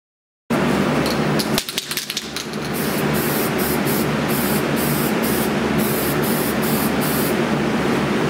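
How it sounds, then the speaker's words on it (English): Spray primer hisses steadily from an aerosol can as a coat goes onto 3D printed parts, a close, loud and continuous spray with a brief break early on and no talk over it. "go ahead and apply a coat of primer just so we can see any problem spots at this point"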